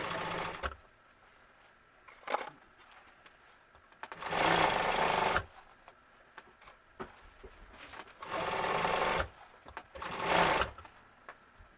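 A sewing machine stitches an upholstery seam on a 1951 Ford truck seat in short, loud bursts of rapid needle chatter, with quiet pauses between runs of about a second.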